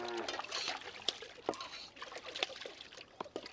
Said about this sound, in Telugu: గోలం కాడికి పోయి కాళ్ళు చేతులు కడుక్కొని రాపో.